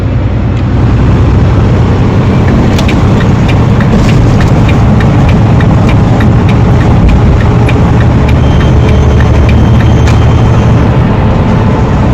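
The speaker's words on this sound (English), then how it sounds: "he's just going to go through all the gears in the high range without using the splitter" A 2018 Volvo truck engine pulls loud and steady as it climbs through the high-range gears, a constant deep drone with faint clicks and rattles from the cab, no voices.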